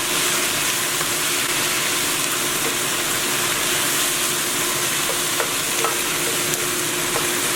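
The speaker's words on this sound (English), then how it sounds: "I'm just going to stir fry it together" Spicy pork stir-fried in a hot pan gives a continuous loud sizzle with occasional clicks of stirring, steady and close throughout without talk.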